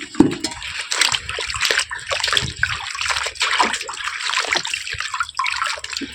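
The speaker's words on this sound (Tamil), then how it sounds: "இந்த பனங்கிழங்கை நன்கு தண்ணீரில் கழுவ வேண்டும்." Palm tubers washed by hand in a basin of water, with repeated close sloshing, splashing and dribbling as they are rubbed and turned, continuing without pause.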